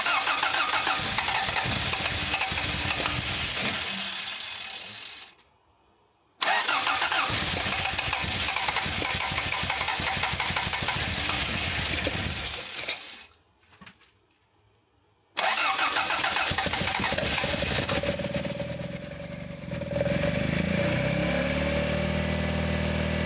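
A car engine with an idle air control fault is cranked and started three times, and each time it runs loudly for several seconds before dying away. Silent gaps separate the tries.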